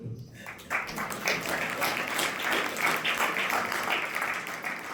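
Sustained audience applause at a religious discourse gathering, a dense clapping crowd building quickly after a quiet start and continuing steadily to the end.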